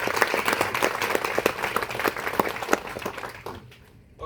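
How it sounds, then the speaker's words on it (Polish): An event audience in Kraków breaks into applause, dense continuous clapping that fills most of the moment before fading out near the end. "daj sobie oklaski."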